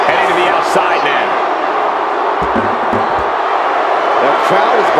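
A wrestling arena crowd in WWE 2K25 cheers with a loud, continuous roar of voices that holds steady throughout, with a few thuds from the ring underneath.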